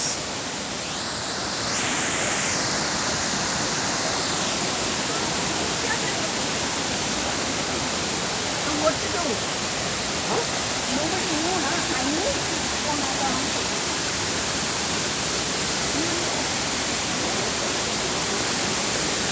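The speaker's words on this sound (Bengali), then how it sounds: "হ্যাঁ বাঞ্জাকিরি ওয়াটারফলস।" Steady roaring rush of the waterfall at Banjhakri Waterfalls Park in Gangtok, a loud, continuous broadband wash that fills the whole stretch without letup.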